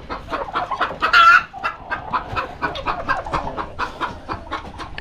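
Clucking hens and small chicks around an incubator on a farm, repeated close clucks and faint cheeps throughout, with a louder burst of squawking near the start.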